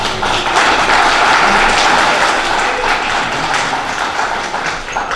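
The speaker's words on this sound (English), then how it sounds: "please give a nice round of applause to Jerry" A room full of people applauds a speaker at a training event, a loud, dense and steady wash of clapping that eases slightly toward the end.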